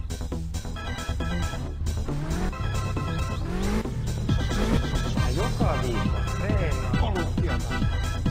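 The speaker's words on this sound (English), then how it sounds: "rev the car." A Hayosiko Ricochet ST in a driving game revs repeatedly, the engine note climbing and falling in sweeping rises, loud and close under a continuous layer of game sound.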